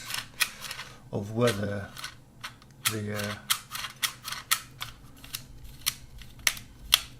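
A Kodak half-frame camera shutter fires several times as a string of sharp mechanical clicks, close and crisp, with brief talk partway through.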